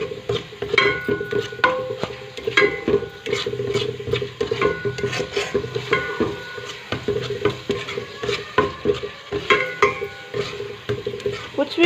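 Chana dal is stirred and scraped in a pot on a stove turned up high. A spoon scrapes repeatedly and rhythmically, with a low sizzle underneath, close and fairly loud.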